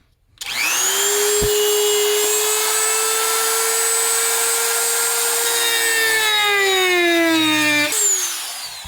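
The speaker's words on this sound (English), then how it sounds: "When in doubt, Dremel it out." A Dremel rotary tool grinds into badly damaged plastic, a loud steady high whine held for about seven seconds that shifts pitch near the end before cutting off.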